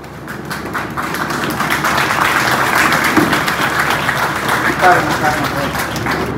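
An audience at a Tamil organic farming meeting stands and applauds the speaker, dense sustained clapping that swells and holds throughout, close and loud.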